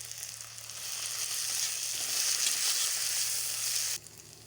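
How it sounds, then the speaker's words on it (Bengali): Chopped tomato goes into onions fried until reddish in hot oil, setting off a loud, rising hiss of sizzling that holds steady and then drops sharply near the end. "পেঁয়াজটা আমার লাল করে ভাজা হয়ে গেছে, এতে কেটে রাখা টমেটোটা দিয়ে দিচ্ছি।"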